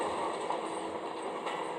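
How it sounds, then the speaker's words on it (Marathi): A train approaches head-on on a Himalayan mountain track in a driving video game, giving a steady, close rail rumble with faint clattering throughout. "आली का ट्रेन समोरून सुद्धा?"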